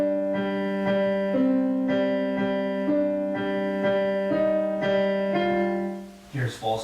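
Piano plays a piece slowly with sustained notes, a steady low repeated tone under slowly shifting upper notes, close and even; a voice starts speaking right at the end.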